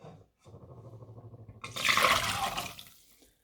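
Soaked cashew nuts and water poured into a saucepan, with a soft rattling lead-in followed by a brief splashing gush of water that fades out.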